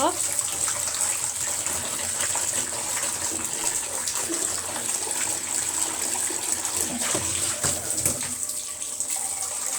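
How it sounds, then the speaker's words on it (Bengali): Fish is washed with salt under a steadily running tap, a continuous splashing gush of water with small clatters throughout. "আমি একটু লবণ দিয়ে ভালো করে ধুয়ে নিব"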